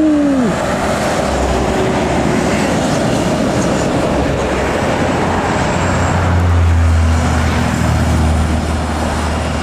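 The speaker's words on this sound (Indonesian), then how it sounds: "balap truk" Heavy trucks roaring past on an Indonesian road, a loud continuous rumble of engines and tyre noise close by, with a brief horn-like tone at the start and a deeper engine drone swelling later.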